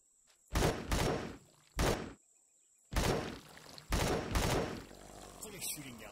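Gunfire in the space survival game Empyrion Galactic Survival comes in several loud, close bursts of rapid shots separated by brief quiet gaps.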